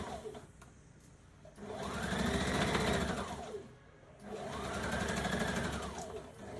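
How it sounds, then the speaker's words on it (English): A sewing machine stitches a dart in skirt fabric in two sustained whirring runs, each swelling up and easing off, with a short pause between them; close and fairly loud. "I'm gonna rest the presser foot down, and I'm gonna continue stitching"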